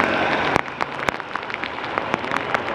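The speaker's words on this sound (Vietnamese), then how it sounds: "Và trời mưa" Heavy rain falls on a Saigon street during the Mid-Autumn festival, a dense continuous hiss broken by sharp drip and splash clicks, with no voices.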